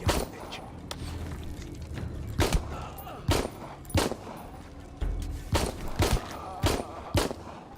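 Gunfire in the Shadow of the Tomb Raider video game: a string of sharp, separate shots spaced unevenly over several seconds, loud and close, over a low background rumble.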